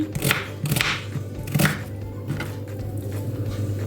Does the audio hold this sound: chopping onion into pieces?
yes